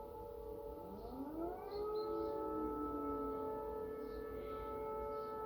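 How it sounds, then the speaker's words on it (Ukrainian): An air raid siren in Ukraine wails in the distance, its pitch slowly rising and holding in a sustained, eerie tone with no talking. "Да, повітряна тривога."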